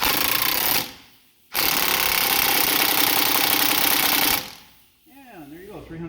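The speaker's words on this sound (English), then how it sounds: "I always just tighten them as far as they'll go with my gun" Impact gun hammering a CV axle nut tight on a Gen 2 Toyota Prius, two loud close rattling bursts, the second longer, separated by a brief pause, followed by quiet shop noise.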